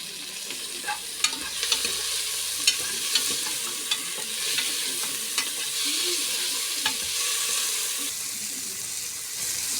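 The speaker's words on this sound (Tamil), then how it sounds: "நல்லா வதக்கிக்கோங்க, நல்லா பொன்னிறமாக வதக்கிக்கோங்க" Chopped tomatoes sautéing in a pan for mushroom biryani: a steady soft sizzle with a spoon scraping and stirring, sharp clicks of the utensil against the pan, heard close and alone.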